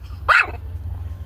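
A small puppy gives a single short, high yip-like bark, close and clear, followed by a low steady hum of background noise.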